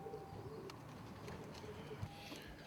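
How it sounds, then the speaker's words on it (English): Domestic show flight pigeons coo softly in a loft, a few low rolling calls rising and falling over steady room noise, faint and fairly distant, with no talk. "Now this is a group of domestic show flights."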